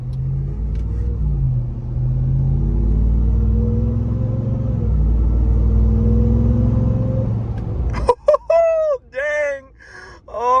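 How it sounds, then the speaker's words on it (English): A 2021 RAM TRX rumbles along the road with a rising supercharger whine over its low engine drone. A voice exclaims near the end. "See if we can get a little bit of supercharger whine for you."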